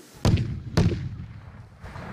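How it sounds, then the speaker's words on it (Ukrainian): Explosive charges set off by the fire method during a bomb-disposal training exercise at a university training ground: two sharp, heavy blasts about half a second apart, each decaying into a rumbling tail. "Ось зараз ми слышимо це огнєвий спосіб підриву."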